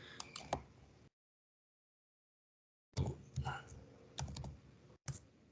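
Clicky keystrokes on a computer keyboard as a SQL formula is typed, up close, in short bursts broken by a dead-silent gap of about two seconds.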